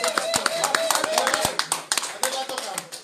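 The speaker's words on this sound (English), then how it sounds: "We now clap for that talk." An audience at a book launch in the UK claps after a talk, a brief burst of scattered, uneven hand claps close by, mixed with overlapping voices talking throughout.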